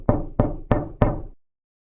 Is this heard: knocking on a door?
yes